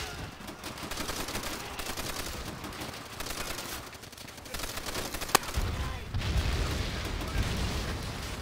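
Heavy gunfire from a big gun in the World at War shooter, a sustained loud fusillade of rapid shots with sharp reports and booming blasts rolling through the scene.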